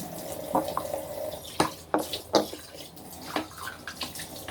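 A faucet runs while a faucet-mounted water filter is rinsed, with uneven splashing water and several sharp knocks and clatters of plastic parts close by, no talking.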